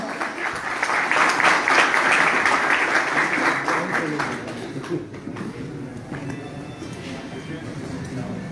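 An audience applauds guests at a pigeon-flying club prize-giving ceremony in Haripur. The clapping is dense and sustained for several seconds, then thins and fades, with voices mixed in.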